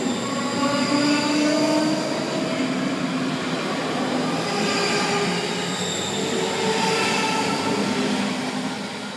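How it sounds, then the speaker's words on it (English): A ScotRail Class 334 electric train at Whifflet station rolls past close by with a loud, steady rumble and squealing wheels, no voices over it. "this train's now going to go to Braidhurst Loop and then come back with 1700 to Milngavie"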